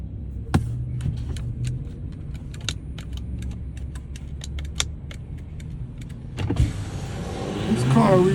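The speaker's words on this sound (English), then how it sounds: "The demon tried to stop my window from coming up." A car's electric power window motor hums steadily as the glass rolls up for several seconds, with scattered light clicks and taps over it, then a louder rustle and knock near the end.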